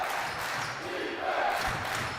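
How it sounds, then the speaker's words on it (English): An energized basketball crowd roars continuously inside the Max Stern Athletic Center during a Yeshiva vs. Purchase college game, a dense, loud, steady mass of voices. "Already lots of noise coming from this energized Max Stern Athletic Center crowd"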